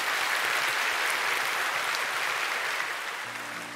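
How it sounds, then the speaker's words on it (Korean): A church congregation applauds newly baptized members as they are presented, a full, sustained wash of clapping from many people that tapers slightly toward the end, with no voices over it. "우리 인사하실 때 박수로 축복해 주시기 바랍니다."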